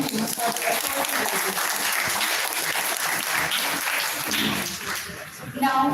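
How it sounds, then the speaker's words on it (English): Sustained audience applause for participating teams at a youth summit, a thick, even wash of many hands clapping for six seconds, easing slightly near the end. "Let's give a huge round of applause for all our participating teams for their efforts and"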